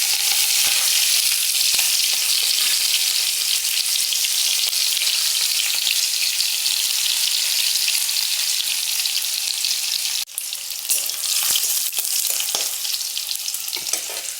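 Onions and green chillies frying in hot oil in a wok, a loud, steady, close hiss and crackle that runs throughout, with a brief clatter partway through.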